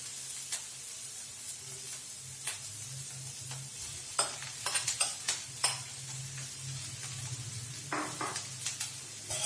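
Okra fries with onions in a pan while being stirred, a low continuous sizzle with sharp clicks and scrapes from the spoon growing busier midway, close and without speech.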